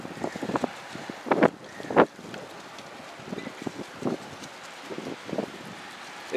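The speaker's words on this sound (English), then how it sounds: "And I apologize again for the wind." Wind buffets a microphone outdoors at a large National Guard military base in Milwaukee, producing loud, uneven rumbling gusts with several sharp thumps and no talking.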